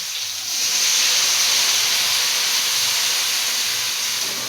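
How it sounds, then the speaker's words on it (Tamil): A loud, steady hiss of water poured into a hot pan of frying soya chunks, rising suddenly and sustaining as steam sizzles close by. "கொஞ்சமாக தண்ணி ஊற்றிக்குவாங்க சார்."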